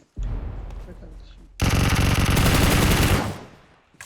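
Gunfire in PUBG Mobile on the Livik map: a first stretch of shots, then about two seconds of loud, continuous automatic fire that cuts off and tails away, heard close with no talk over it.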